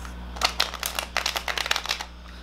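Tarot cards being shuffled by hand, a quick close burst of crisp riffling flutters in several short runs, then stopping.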